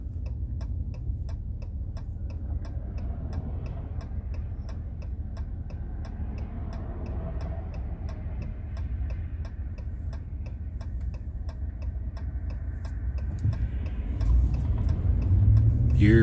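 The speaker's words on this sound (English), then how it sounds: "Wait for some of this traffic to go by." Road traffic rolls past a car near Houston's Intercontinental Airport, a steady low rumble with a faint ticking indicator throughout, swelling louder toward the end as vehicles pass close by.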